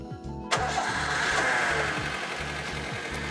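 A 2005 Suzuki APV car engine cranks briefly with rhythmic starter whirring, then catches at once and settles into a smooth, steady idle, heard close with no talking.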